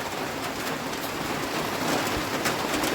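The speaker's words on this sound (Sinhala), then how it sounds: "වහිනවා." Steady rain falls nearby on an outdoor soil-digging site, a dense, even patter on surfaces with occasional louder drops, no voices.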